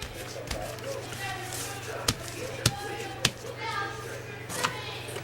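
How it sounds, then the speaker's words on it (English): Children at play in a room below, with several sharp ball bounces spaced irregularly through the middle of the clip over a steady background hum and faint kid voices. "Kids are playing downstairs."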